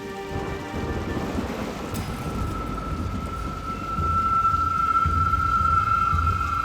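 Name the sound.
rain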